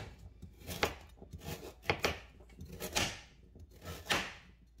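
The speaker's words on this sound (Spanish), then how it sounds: "lo primero que voy a hacer será cortar todas las verduras" A knife chopping carrots and zucchini on a board, about half a dozen soft, separate thuds at an uneven pace, quiet and close, with no talking.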